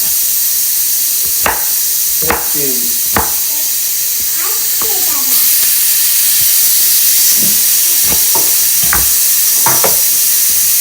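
Okra is cooked and stirred into dal in a home kitchen, a constant loud sizzle and steam hiss broken by a series of sharp spoon scrapes and clinks against the pot.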